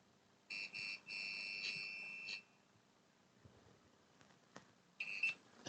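A multimeter on continuity test gives thin, high electronic beeps from a probe touching a reading just above 50 ohms. The beeps come in short broken bursts and one longer steady tone, then return once more at the end over a quiet room.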